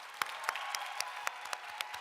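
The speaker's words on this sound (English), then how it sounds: "Let's give her another round of applause." Applause at a Women of Color in STEM awards gala, a scattered steady patter of clapping with several sharper individual claps standing out at a regular pace, moderately quiet and brief.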